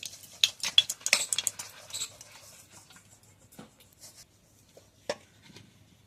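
A utensil scrapes and clinks against a hot wok while lentils are stirred, with a quick flurry of close metallic taps and scrapes at first, then sparser clicks with pauses between them. No one speaks.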